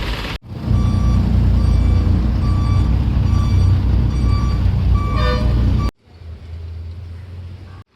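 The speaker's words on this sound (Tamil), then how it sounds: "நான் தான் வண்டி ரிவேஸ் எடுக்கணும்" A container truck reverses with a loud, steady engine drone and a repeating reversing beep, close by, before the engine noise suddenly drops to a quieter idle.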